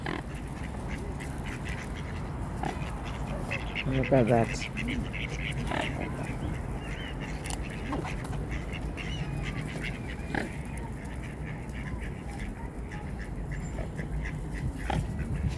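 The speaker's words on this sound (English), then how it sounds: "We are feeding the ducks and even the" Ducks quack at a riverside while people feed them and other birds gather. A few calls stand out over steady outdoor noise and a person talking nearby.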